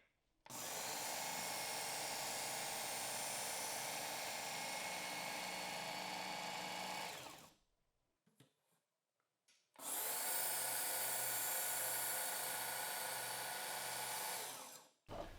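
A Ken Onion Edition KTS Mk.2 belt knife sharpener running at a low speed, a loud steady whirring drone for about seven seconds, a short quiet gap, then a second equally loud run, close up with no talking.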